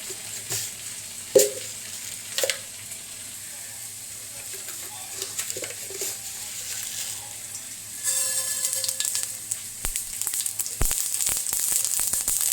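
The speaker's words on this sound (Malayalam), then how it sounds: "കടുക് പൊട്ടട്ടെ" Mustard seeds in hot oil sizzle and start popping, a few clanks early on, then the crackling grows denser and steadier toward the end.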